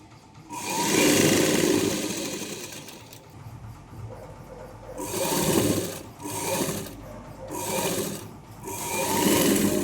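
A sewing machine stitches the lining of a blouse in several bursts of rapid mechanical whirring, with short pauses between runs, close and clear with no talking.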